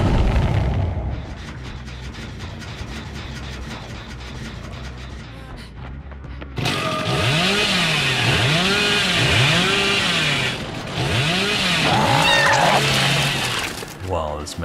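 Hillbilly's chainsaw revving in Dead by Daylight, a loud droning engine roar with rising and falling pitch sweeps, heard alongside game sounds and a commentator talking over it.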